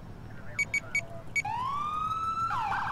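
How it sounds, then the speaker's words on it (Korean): A police siren in the video game GTA IV begins with a few short electronic chirps, then a rising wail that holds steady before switching to a faster yelp, clear and fairly loud over a low background hum. "바꾼 게 있습니다. 바로 사이렌."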